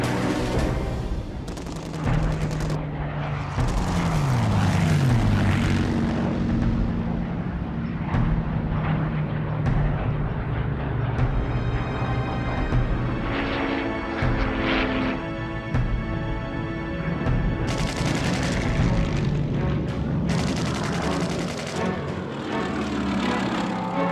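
WWII bomber and fighter aircraft engines roar in the Battle of Britain, with droning propellers whose pitch sweeps as planes pass, mixed with bursts of machine-gun fire and explosions, loud and dense throughout.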